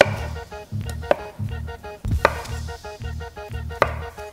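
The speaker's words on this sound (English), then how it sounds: "We've got our potatoes. I'm going to prepare those quickly by chopping them." Potatoes are chopped with a knife on a cutting board in a home kitchen, giving a quick run of close, crisp, evenly spaced thuds and taps, with no talking.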